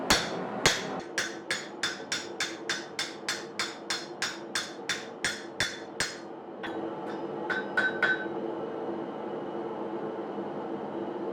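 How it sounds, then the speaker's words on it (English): A steel chisel is hammered on a guillotine-type hardy tool at a blacksmith's anvil, necking down the piece: about fifteen sharp, evenly spaced ringing blows, then a few lighter taps and a fading metallic ring. "I'll neck it down a little here. In this case, I'm using a guillotine type hardy tool"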